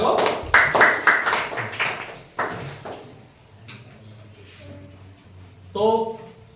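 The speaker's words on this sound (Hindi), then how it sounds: "तालियां बजा दो।" Schoolchildren in a classroom clap in a few sharp, close bursts that come mostly at the start, followed by quieter shuffling, and a teacher talks in between.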